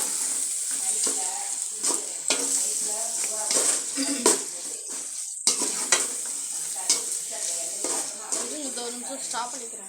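Tomatoes sautéing in a pan, a close crackling sizzle broken by repeated scraping stir strokes at an irregular rhythm, with a brief pause midway before the stirring resumes.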